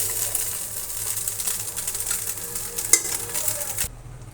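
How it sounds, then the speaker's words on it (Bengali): Taki fish sizzles in hot oil in a pan, a steady crackling hiss with faint stirring scrapes and one sharp clink, before the frying noise drops away at the end. "তেল দিয়ে আমরা মাছটা ভালোভাবে ভেজে নিব।"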